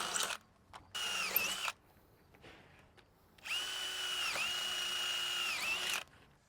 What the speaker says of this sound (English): make sure you drill all of your drainage holes on 16-inch centers and make sure it goes all the way through that bottom rail